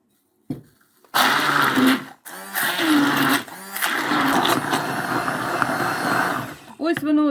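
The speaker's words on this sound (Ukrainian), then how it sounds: "І перебити блендером." A blender whirs loudly in several bursts, starting and stopping, then runs steadily with a grinding roar as it purées onion and cheese.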